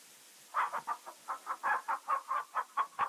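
Chickens in King's Quest III cluck in a steady run of about a dozen short, bright calls, close and clear, with no voices.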